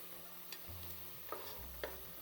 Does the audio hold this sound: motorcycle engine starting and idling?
no